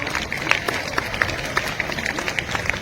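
Schoolchildren applaud at a high school Independence Day function, a brisk, continuous patter of many hands with a few sharper claps standing out, fairly close and steady from start to finish.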